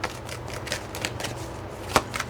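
Tarot cards drawn and shuffled by hand, a quick series of soft flicks and slides with one sharper snap near the end, close and quiet.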